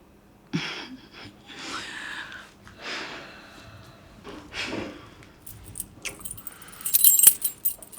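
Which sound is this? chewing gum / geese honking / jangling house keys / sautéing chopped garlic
jangling house keys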